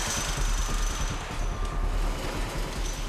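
A crew bolts a wind turbine tower to its foundation: a rapid, continuous mechanical rattle of hammering bursts, fairly close and steady for a few seconds.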